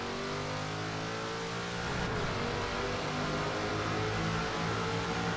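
A car engine in Forza Horizon 4 drones steadily at highway speed, loud and close with a constant hum and slight rise in revs partway through, no voices.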